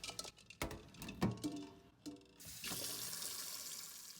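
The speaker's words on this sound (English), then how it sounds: "we're simply going to take the eggs back over to the sink and give them a rinse under cold" Cold tap water running into a kitchen sink as hard boiled eggs are rinsed, with knocks and splashes early on, then a steady close rush of flowing water.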